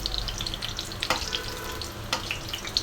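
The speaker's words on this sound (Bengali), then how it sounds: "বড়াটা একটু কড়া করেই ভাজি" Fritters (bora) frying crisp in hot oil, a steady soft sizzle with occasional brief crackles and pops, close by with no voices.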